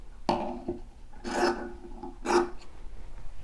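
Quilt fabric being trimmed gives three separate rasping cuts, close and fairly quiet, with short pauses between them and no voices.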